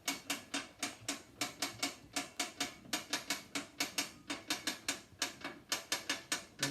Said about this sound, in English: Keep turning the wheel until you hear the clay release from the two wheels, which you can hear it there.